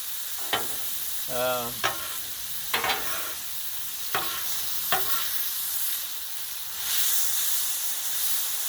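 Chicken fried rice being mixed on a hot griddle sizzles and hisses steadily, with sharp scraping clacks of a spatula at irregular intervals and a brief murmur of talk.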